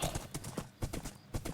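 Hooves of a video-game horse named Gustavo clip-clop in a quick, even rhythm, fairly quiet, with a faint voice in the background.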